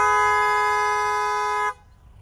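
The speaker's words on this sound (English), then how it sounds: "beep the horn and we'll get a video." A single long, loud vehicle horn blast on a farm sounds close by and steady for under two seconds before cutting off abruptly into quiet background.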